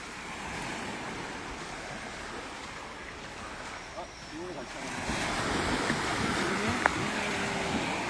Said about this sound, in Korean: 바다 소리 들면서 여러분 마음 편하게 바다 소리 좋지 않아요?